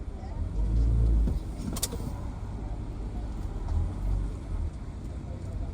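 A car drives through San Diego, California, with a steady engine rumble and road noise and a heavier low surge near the start. Faint voices murmur inside the cabin.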